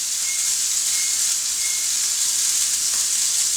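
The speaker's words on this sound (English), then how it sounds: "And we throw in our steak. Good, satisfying sizzle." A steak sears in a hot pan with a steady, close, loud sizzle of hissing fat and crackling spatter, continuous with no talking.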